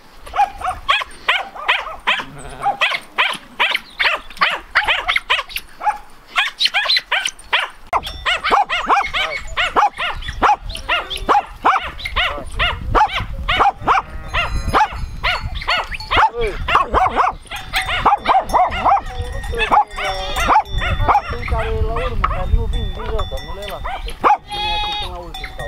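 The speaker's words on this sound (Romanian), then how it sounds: "În față puteți vedea câinii" Sheepdogs, some only a few months old, bark repeatedly among the bleats of a large flock of sheep, with people talking and other farm noise; the barks are fairly close and fairly loud.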